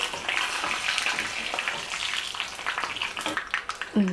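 Dried red chillies frying in a pan give off a steady, close-up sizzle and crackle, with light clinks of a utensil near the end.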